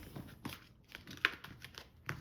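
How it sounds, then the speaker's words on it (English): Tarot cards handled and cut into three piles on a table, giving soft papery crinkles and light taps at a quiet, close distance, with a slightly sharper snap partway through. "So I'm going to cut the deck in 3."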